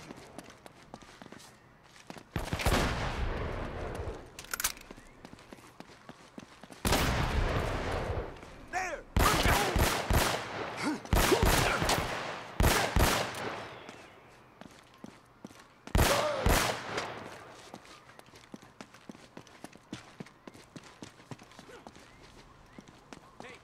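Gunfire in Uncharted, heavy shotgun blasts and other shots arriving in separated loud bursts with quieter gaps, some rapid clusters, and people talking in between.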